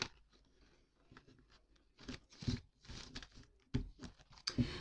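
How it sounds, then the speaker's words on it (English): Tarot cards riffle and slap together in quick, uneven bursts of papery flicks and taps, close up and fairly quiet, with short pauses between shuffles. "I'll give it one more shuffle."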